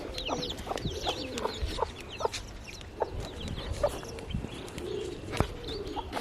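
Young chicks kept at a village home in Kitale peep and cheep in quick, scattered bursts, with a few soft clucks mixed in, fairly close and with no one talking.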